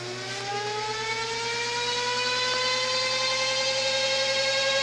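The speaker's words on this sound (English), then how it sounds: "we're going to attach the motor now to a 12 volt charger, and we're going to spin this motor up just as a test spin" An electric motor on a 12 volt charger spins up during a coupler runout test in an electric auto shop, giving a smooth, steady whine that rises gradually in pitch and grows slightly louder, close and uninterrupted.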